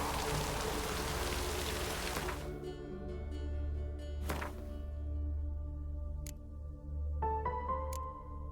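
Steady rain falls in The Witcher 3: Wild Hunt, a dense hiss of drops on surfaces that thins out midway as low ambient game tones and a few sharp clicks take over.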